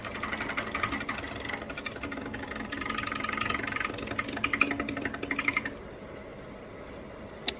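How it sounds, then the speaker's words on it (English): A negative rake scraper shear-scrapes the inside of a live edge wooden bowl spinning on a lathe, giving a steady rasping hiss with rapid ticking that stops abruptly, leaving the lathe's lower hum and one sharp click at the end. "After doing a little bit of shear scraping with this negative rake scraper"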